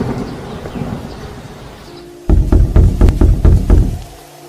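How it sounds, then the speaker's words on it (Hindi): Thunder crackles during a night storm: after a low rumble of rain, a sudden loud, sharp burst of rapid cracks and booms rolls for nearly two seconds, then cuts off, with no voices. "कैसी बिजली कड़क रही है"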